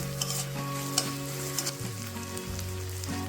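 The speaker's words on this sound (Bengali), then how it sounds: "তো আমাদের পেঁয়াজটা থেকে কিন্তু তেল ছাড়তে শুরু করে দিয়েছে।" Chopped onions fry steadily in hot oil for a tuna fish curry, a continuous close sizzle with a few light stirring scrapes and clicks, no voices.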